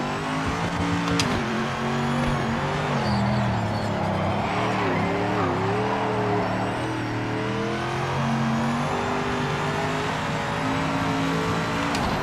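A race car in the PMR racing video game whines with a steady, rising and falling engine tone and squeals its tires in a skid, continuous and fairly loud throughout with no talk.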